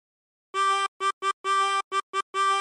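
A tremolo harmonica plays a short phrase of the sea shanty Drunken Sailor, a run of clear, buzzy reedy notes in uneven bursts, some held and some short, with no talk.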